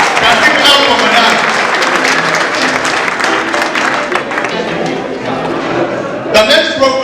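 Audience applause at a polytechnic ceremony, a dense, continuous wash of many hands clapping, fairly loud and close, with crowd murmur blended in and a brief louder burst near the end.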